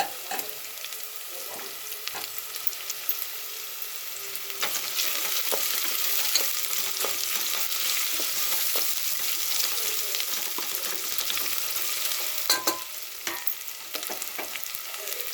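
Soaked moong dal tipped into a pan of frying onions, a steady crackling sizzle that swells as it is stirred, punctuated by scattered clicks and scrapes of a spoon.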